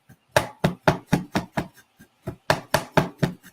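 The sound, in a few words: chopping turmeric root with a small knife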